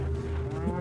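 A cow in a video game lets out a single sustained low moo, steady and fairly loud, filling the whole brief moment.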